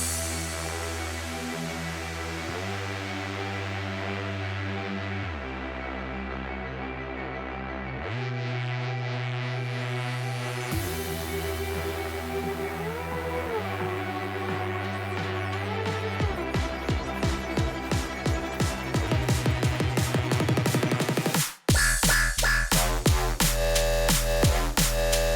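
Drum and bass track built with the Vital synth and stock plugins, opening on sustained bass and pad chords, then building with rising synth sweeps and dense rapid beats, a brief dropout, and a full loud ending section.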